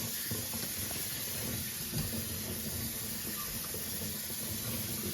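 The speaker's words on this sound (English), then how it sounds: "I just want to get all the salt off of it. Wash it really well." Salted cabbage is rinsed under a steady running kitchen tap, a continuous broadband rush of water splashing into the sink, close and even throughout with no voices.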